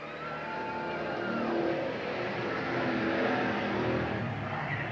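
Stock cars race around Eugene Speedway in 1987, engines roaring continuously as the pack battles for position, the drone swelling and easing slightly as cars pass.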